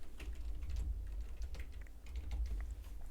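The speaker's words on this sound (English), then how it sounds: "you have to type your text" Rapid, steady keystrokes on a computer keyboard, close and continuous, with a fast uneven clatter of keys and no voices.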